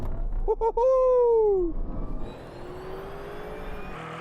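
A Tesla Cybertruck and a Lamborghini Urus launch off the line in a drag race. A loud, bending whine rises and then fades over about a second, followed by a quieter, receding engine hum.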